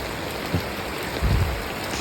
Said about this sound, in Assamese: ইমান ডাঙৰকৈ বৰষুণ দি আছে দেখিছেনে